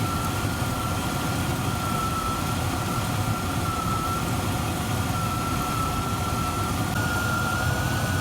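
A Rover SD1 idles steadily after its carburettors are adjusted, a constant close engine hum with a sustained whine and no change in speed.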